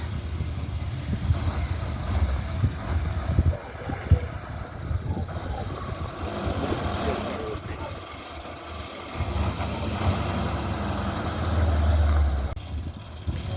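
A truck tips a load of building material into two separate piles at a farm building site, its engine rumbling steadily with air-brake hisses and clattering debris, close and fairly loud, with occasional voices in the background.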